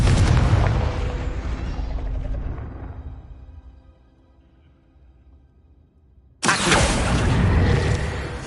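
A Confringo fire spell explosion in Hogwarts Legacy: a loud booming blast that fades into a long decaying tail and near silence, then a second loud burst erupts.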